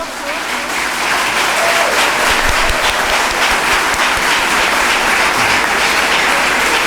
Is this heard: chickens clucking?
no